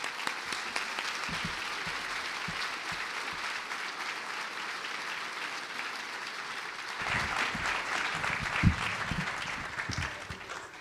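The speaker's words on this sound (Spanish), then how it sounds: "recibamos con un aplauso a nuestro invitado de honor, don Felipe Calderón Hinojosa" An audience applauds to welcome former Mexican president Felipe Calderón as the guest of honor at an industry chamber event, with steady crowd clapping that swells and grows fuller partway through.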